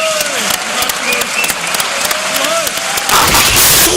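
An audience applauds after the SONA 2022 address. Dense, sustained clapping fills the whole stretch and swells louder near the end, with a voice speaking over it.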